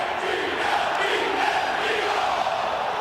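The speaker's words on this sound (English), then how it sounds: "Hostile crowd." Hostile home crowd at a Philadelphia Eagles NFL game, a dense continuous stadium roar of thousands of voices, loud and unbroken throughout.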